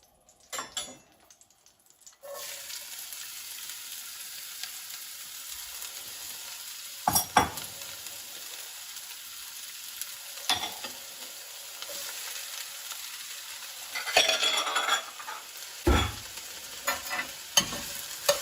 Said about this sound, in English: You need enough oil to be able to get this frying.